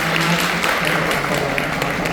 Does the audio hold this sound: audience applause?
yes